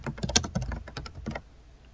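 A run of quick keystrokes on a computer keyboard types a search term into job-management software, close and crisp, stopping partway through with quiet room tone after.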